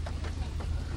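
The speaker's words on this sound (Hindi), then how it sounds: "बारिश जोर आया फिर।" Heavy monsoon rain pours down steadily at a forest edge point near Kalasa in Chikkamangaluru, forming a dense continuous wash of noise with a low rumble beneath it and no voices.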